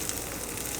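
Steady, close crackling sizzle of a grilled cheese sandwich frying in a hot pan, an even hiss with small pops and no talking.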